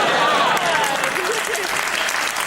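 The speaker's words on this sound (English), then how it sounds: "Slightly fewer people clapping than I noticed." A studio audience on a TV panel show applauds, a dense, steady, moderately loud wash of clapping with voices faintly audible underneath.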